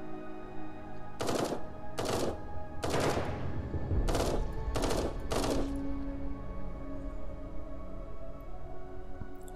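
Six bursts of automatic gunfire from the Eden Star video game, each about half a second long and spaced roughly a second apart. A low steady hum continues underneath, and no one speaks.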